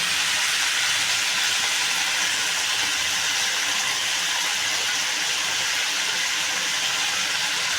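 Coarsely ground peanuts and chillies hit a hot pan for a val papdi vegetable dish, giving a loud, continuous, even sizzling hiss up close that holds steady throughout without talk.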